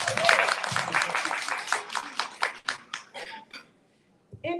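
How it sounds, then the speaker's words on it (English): At a mermaid convention stage show, an audience claps for a performer in a lively burst that thins into scattered claps and fades to near silence, followed by a brief voice. "let's clap for Melodia."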